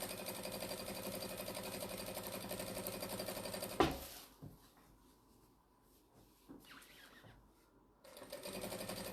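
A sewing machine stitches a strip tote bag made from jelly roll fabric strips, running steadily for about four seconds, then stopping with a clunk and quiet handling, and whirring again briefly near the end.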